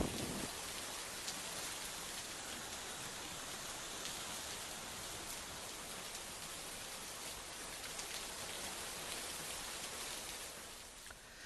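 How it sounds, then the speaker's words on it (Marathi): Heavy rain pours in Dharashiv district, a dense, even hiss of drops on surfaces that stays constant and moderately loud from start to finish, with no voices. "धाराशिव जिल्ह्यामध्ये पावसाचा जोर पाहायला मिळतोय."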